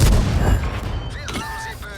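A Tiger I tank gun fires once in World of Tanks on the Ruinberg map, a loud close boom that rolls off into a fading rumble.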